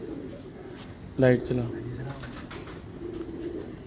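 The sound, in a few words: pigeons cooing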